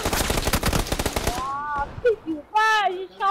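A rapid burst of loud gunfire in the PUBG battle royale game, including a K98 rifle headshot, rattles densely for over a second before dropping to sparse tonal game sounds and short voice bits.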